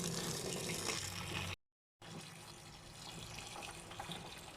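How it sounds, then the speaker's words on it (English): A garden hose runs water into a container used for making biochar, a steady broadband rush of pouring water that cuts out briefly for a moment, then resumes at a similar level, close and continuous with no talk. "I'm gonna fill this up with water and then show you when I'm done"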